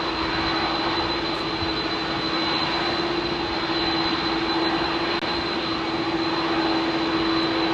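Malaysia Airlines jet at Heathrow runway 27R, its engines giving a loud, steady roar with a sustained whine, close by and continuous throughout with no voices.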